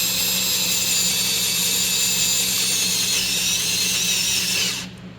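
A steady high-pitched whine of a drill boring a hole for a Helicoil thread repair, lubricated with oil, held at constant speed for several seconds before stopping abruptly at the end.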